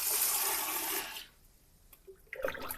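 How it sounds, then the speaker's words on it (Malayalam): Water from an aquarium tank splashes and pours in a loud rush for about a second, then drops to near quiet before another short splash of scooped water. "നമുക്ക് വെള്ളം മൊത്തം കോരിക്കളയാട്ടോ ആദ്യം"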